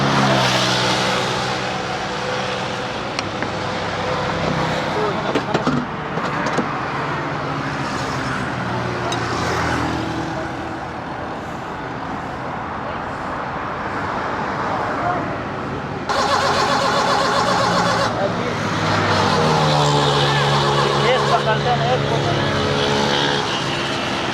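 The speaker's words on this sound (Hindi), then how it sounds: "गाड़ी स्टार्ट करें आप?" A car engine runs and revs in several rising and falling swells, fairly loud and close, while people talk nearby.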